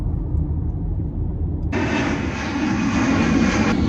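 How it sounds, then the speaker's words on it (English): Airplanes take off and land at a city airport, a steady low jet roar that suddenly swells into a broad, loud rushing whine, with no talking. "Plane's taking off and landing."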